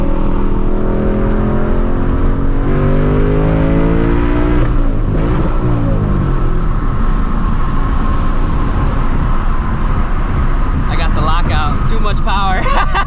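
A 2024 Ford Mustang GT running on E85 accelerating hard through the gears: a loud, close engine roar rising in pitch and dropping at each shift, with crackly exhaust pops toward the end.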